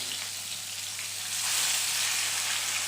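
Katla fish frying in a pan of oil, a steady close sizzle with fine crackle that swells louder about halfway through and holds there, no talking.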